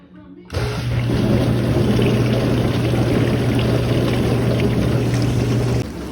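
A dishwasher starts up after a repair, switching on abruptly into a steady, loud running hum with a constant low tone and a broad wash of rushing, water-like noise that continues evenly until it cuts back near the end.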